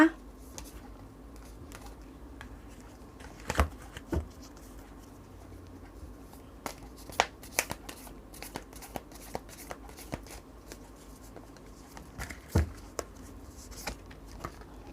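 Tarot cards are shuffled by hand in quiet, close riffles and taps with irregular rhythm, punctuated by a few sharper snaps and thumps of the deck over about fifteen seconds.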